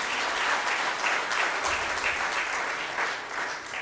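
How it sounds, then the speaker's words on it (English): Steady, even audience applause at a film festival, many hands clapping together without a break for the whole stretch, with no speech over it. "So can we all clap for ourselves?"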